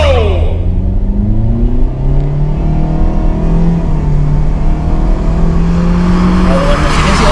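An LMPV car accelerates hard from a standstill in an acceleration test, its engine rising through rising-pitch gear pulls, loud and close throughout, with voices talking over it.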